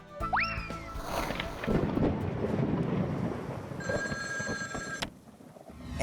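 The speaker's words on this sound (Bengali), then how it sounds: "যাই, বল্টুকে ফোন করে ডাকি।" A telephone-style electronic tone rings out briefly near the end, following a rising cartoonish boing and a stretch of rumbling noise.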